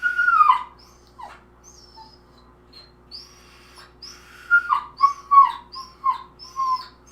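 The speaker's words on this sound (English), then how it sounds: "What kind of dog is making that noise?" A beagle whines and whimpers in short high-pitched bursts, a cry at the start and then a run of plaintive yelps near the end, fairly close with quiet gaps in between.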